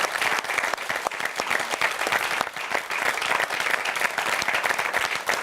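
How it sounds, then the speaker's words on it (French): Sustained, even audience applause filling a hall after a bilingual French-Italian event, dense overlapping claps with no pause throughout. "on peut les applaudir encore une fois"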